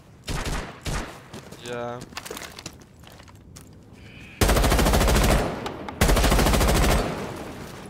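Video game weapon fire: a short burst early on, then two long, loud sustained automatic volleys near the end, with a brief spoken word among the shots.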